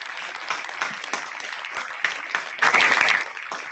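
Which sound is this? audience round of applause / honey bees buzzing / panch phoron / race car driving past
audience round of applause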